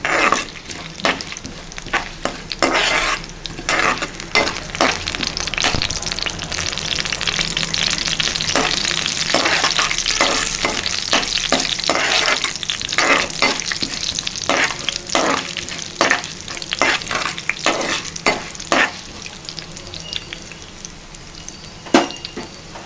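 Seeds with two dried red chillies sizzle and fry in a pan for gongura curry, a steady crackling hiss broken by repeated scraping stirs from a spoon, close and fairly loud throughout with no talking.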